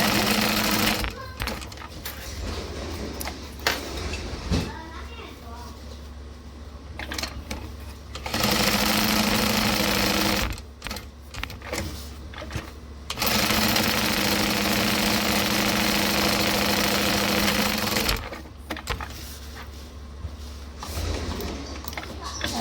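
Sewing machine stitching a backpack seam at a 3 stitch length, running in loud steady bursts of rapid mechanical chatter separated by short pauses and quieter handling noises.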